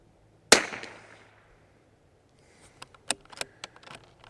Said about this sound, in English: let's go ahead and just take a few shot sighters here